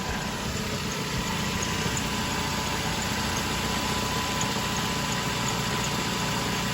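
A car engine idles steadily after an oil change, a constant mid-low rumble with a faint whine, about five minutes after starting, with no talk.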